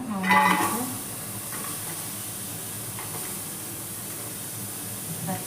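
Ingredients sizzling in a kadai on a stove, a steady frying hiss throughout with a brief clatter near the start, fairly close and with no talking.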